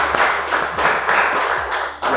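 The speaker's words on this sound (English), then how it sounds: "Please let's give an applause to Mr." An audience applauds a guest speaker, the CARD coordinator, at a leadership talk event; steady, fairly loud clapping fills the whole moment with no talking over it.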